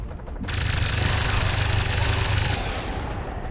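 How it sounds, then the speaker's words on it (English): Sustained burst of automatic gunfire in the turn-based tactics game XCOM 2: War of the Chosen, a dense rattling volley starting after a brief pause and continuing loud and steady for several seconds with no talk. "You might as well attempt the shot."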